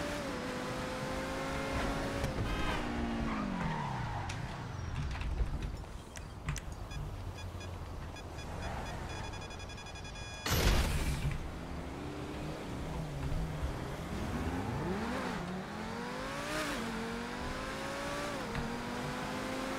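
A car in the video game GTA Online drives and revs, its engine pitch repeatedly rising and falling through gear changes, with a sharp crash-like burst midway, all fairly faint.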